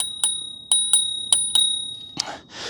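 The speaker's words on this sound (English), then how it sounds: "And it's got an integrated bell." An integrated bell on a KBO Breeze step-through e-bike rings five times in bright, clear dings, followed by a short rustle.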